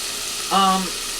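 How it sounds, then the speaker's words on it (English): Diced cooking ham sautés in a pan with a steady, close hiss of sizzling, broken midway by a brief tonal hum. "And we're going to let that saute for just a little bit."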